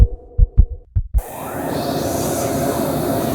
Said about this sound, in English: I took another step, my heart pounding.